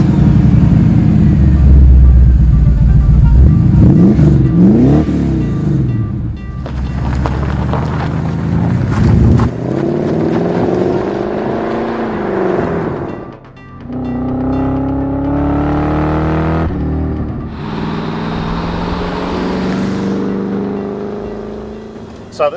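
A 1980s Mercedes 560 SEC C126 coupe, modified for better handling, is driven and accelerated. Steady engine drone rises and falls through gear changes, with wind noise over the cabin microphone.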